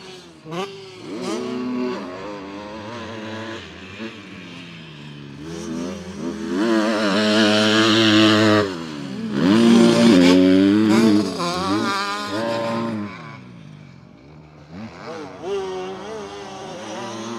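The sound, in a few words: dirt bikes riding on a motocross track at Ernée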